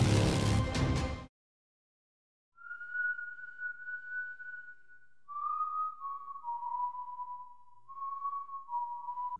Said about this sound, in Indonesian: Film diawali dengan terdengarnya sebuah siulan, yang mana itu bukanlah siulan biasa.